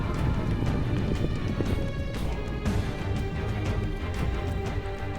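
Cataphract cavalry charge at a gallop, a dense, continuous drumming of many hooves, loud and close throughout, with clanking and crashing mixed into the thunder.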